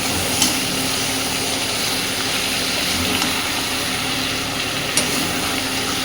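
Prawns, jackfruit and potato are stirred through spices in a pan, giving a steady, even frying hiss. Faint scrapes and clicks of stirring come through in a few places.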